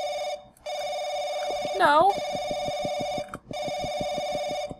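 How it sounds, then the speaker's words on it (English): An electronic phone in the video game Paranoiac rings in repeated steady bursts with brief gaps, loud and close, while a voice briefly speaks over it. "Shut up, phone! I'm trying to find you!"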